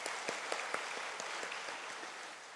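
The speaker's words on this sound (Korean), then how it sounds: "우리 챔버를 위해서도 박수 한번 쳐주시고" A church congregation applauds a chamber ensemble of two violins and two cellos during a Sunday morning service, a steady wash of clapping at moderate distance with a few sharper claps standing out.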